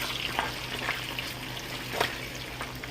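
Fries cook in hot oil with a steady, soft, continuous sizzle and crackle, small pops scattered throughout, moderately quiet and close, with no talking over it.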